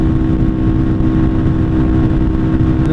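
Loud, steady engine drone of a Lifan KPR 200 motorcycle while riding, a constant low rumble mixed with wind noise and no distinct revving changes.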